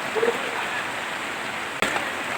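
Heavy rain falls outdoors at a site where marble is being loaded, a steady close hiss broken by one brief knock.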